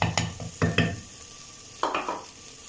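Finely chopped tomato is mixed into a pan of chana dal on the stove, heard as several short metallic spoon clanks against the pan, clustered in two bursts over a faint background hiss.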